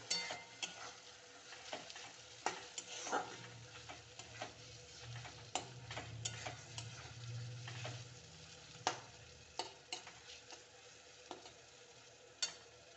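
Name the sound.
stirring ginger and garlic frying in a pan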